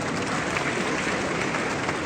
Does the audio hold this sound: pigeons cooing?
no